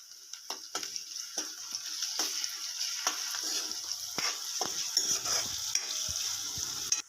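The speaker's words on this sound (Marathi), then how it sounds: "अद्रक लसूण पेस्ट टाकत आहे" Ginger garlic paste sizzles steadily in hot oil in a pan as it is stirred, the continuous crackle broken by repeated sharp clicks of a spoon scraping against the pan.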